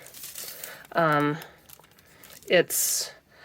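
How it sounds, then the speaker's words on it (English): A sheet of holographic foil for book-edge foiling is handled up close, giving a short bright crinkle near the end, with a voice talking between rustles. "So this is my foil."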